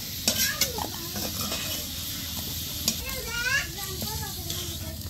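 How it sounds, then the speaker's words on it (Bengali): Potatoes fry in hot oil until lightly reddened, a steady close sizzle broken by stirring scrapes and a few clinks from the pan, while faint voices sound in the background. "দেখেন বন্ধুরা আলু আমি হালকা লাল লাল করে ভেজে নিছি"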